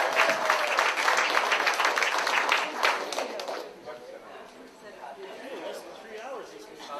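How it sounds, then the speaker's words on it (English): A crowd at a Tea Party meeting bursts into loud, dense clapping for about three seconds, then the applause thins into scattered claps under murmuring chatter and voices. "give yourself a round of applause too"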